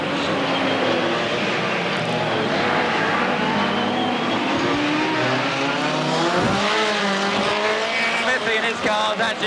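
Rallycross race car at Brands Hatch in 1986 climbing through the gears into fifth, engine roaring loud and close with rising pitch sweeps and a brief tyre squeal, a commentating voice running beneath.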